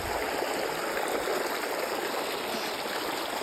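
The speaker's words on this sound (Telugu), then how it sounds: "water falls" A forest waterfall rushes in a continuous, loud, even hiss of falling water, close by and with no other sounds.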